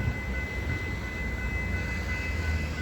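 Outbound Metra commuter train pulling into a rainy Cary, Illinois station during evening rush, a steady, loud low rumble of rolling railcars with a constant high-pitched whine held throughout.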